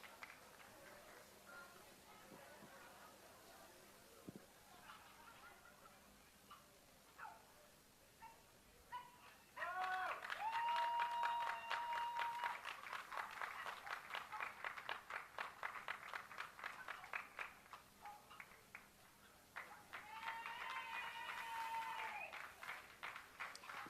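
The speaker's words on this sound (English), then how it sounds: "And the other three, a round of applause as they leave." Applause at a championship dog show in Windsor, breaking out midway as the dogs leave the ring, moderately loud and sustained, with dogs whining and yipping nearby and a voice speaking faintly before it starts.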